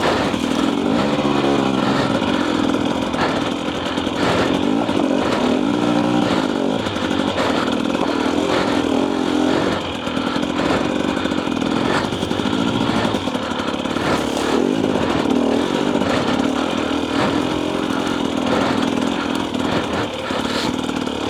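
A 2024 Husqvarna TE250 dirt bike lugs along at low revs on the clutch, its two-stroke engine popping and chugging unevenly with small bursts of throttle, close and loud for the whole stretch.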